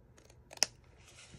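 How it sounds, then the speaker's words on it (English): Scissors make a few quick snips angle-cutting paper for an Easter bunny box, with one sharp, close, crisp cut standing out in a short burst. "So we're going to get rid of this piece. And we're going to angle cut and angle cut."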